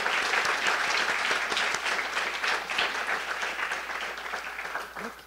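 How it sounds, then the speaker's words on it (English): Audience applause after an introduction of a guest and host at an education and workforce policy event, a steady wash of many hands clapping that holds loud throughout before easing slightly toward the end. "please, a round of applause for our guest and host"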